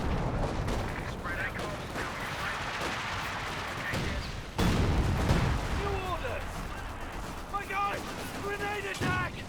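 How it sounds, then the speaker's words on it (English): Artillery fire from base howitzers booms through a Company of Heroes 2 battle, heavy distant blasts layered over a constant roar of gunfire and combat noise, with a harder impact at mid-clip and a commentator talking throughout. "Calls in some base howitzer fire."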